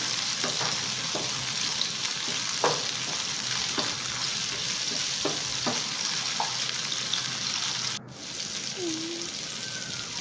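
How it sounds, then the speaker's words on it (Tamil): Tomato frying in a pan with other ingredients for mint chutney, a continuous close sizzle with occasional spoon or spatula clicks and stirring scrapes, steady throughout. "சின்னதாக ஒரு தக்காளி அதையும் சேர்த்து நல்லா ஃப்ரை பண்ணிக்கலாம்"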